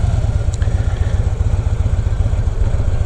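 A motorcycle engine chugs steadily at low RPM while the rider drags the rear brake, a loud, close, continuous low rumble with uneven pulsing throughout.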